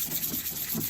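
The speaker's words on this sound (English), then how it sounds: "which will need a good 400 rub. And start doing that very gently" Wet 400-grit sandpaper rubbed gently by hand over a car headlight lens on a Range Rover L322, a soft close scratching hiss in short back-and-forth strokes.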